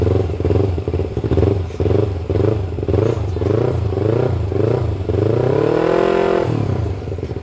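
An old Yamaha Vixion motorcycle engine with twin exhaust pipes idles with a deep, pulsing exhaust burble, steady and close, then revs up briefly before dropping back.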